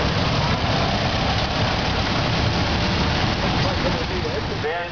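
An antique Super 55 tractor with overhead valves, built around 1955, runs at an antique tractor and machinery show, a loud, steady low engine rumble close by for the whole stretch before easing slightly at the end.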